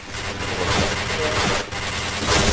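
Point Blank online shooter gameplay with dense, rapid gunfire crackling continuously in loud bursts, brief dips between volleys, and voices talking over the shooting.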